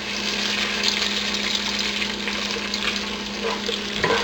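Miso soybean paste stirred into sinigang na bangus with softened onion in a pot: a steady close sizzle over a low constant hum, with a louder scrape of the utensil at the end.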